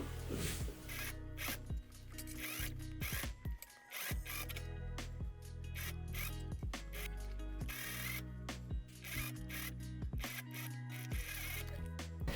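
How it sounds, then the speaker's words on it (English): A sewing machine stitching a jacket lining makes a close, busy mechanical rattle of fast repeated clicks and whirs, with short pauses and restarts as it runs along the seam. No one speaks. "And now I'm going to sew from one side to the other."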